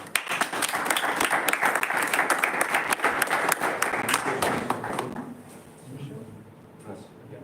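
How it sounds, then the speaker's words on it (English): Audience at a Toastmasters club meeting breaks into loud, dense applause welcoming a speaker to the stage, fading out over the last couple of seconds. "Please welcome Toastmaster Mayank with a huge round of applause."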